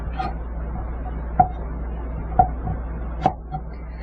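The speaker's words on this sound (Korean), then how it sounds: "일정하도록 채를 썰어 주세요" A knife julienning bellflower root (doraji) on a cutting board, with sharp, sparse chops about once a second over quiet background, close and with no talk.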